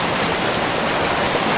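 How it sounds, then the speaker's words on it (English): A waterfall on a mountain trout stream roars in a dense, steady rush of white water, close and loud with no other sounds. "Right by that waterfall."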